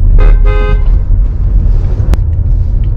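Car horn honked in a prank, two short loud toots close by at the start, then the idling car and low road noise continue with a sharp click near the end.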